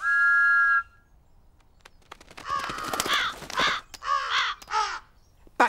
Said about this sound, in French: Mais les corbeaux n'ont pas l'air d'avoir peur de Thomas.